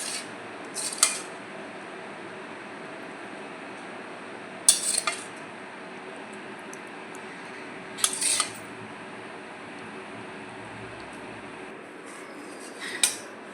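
Fish curry is ladled from a kadai into a bowl over a quiet background, with four brief, sharp clinks of utensil against dish spaced several seconds apart.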